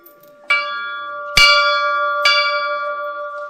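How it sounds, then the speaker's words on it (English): An old house bell at Killygar House in County Leitrim, once used to call in the staff, rings three times, loud and close, each clear metallic strike leaving a long, ringing tail. "this bell was obviously the bell that was used to call in the staff."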